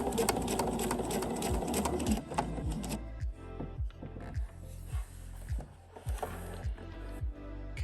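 A home sewing machine top-stitches bias tape with a longer stitch, running in a fast, dense mechanical whir at first, then slowing into a clearly spaced, rhythmic chunk of individual needle strokes, close and steady.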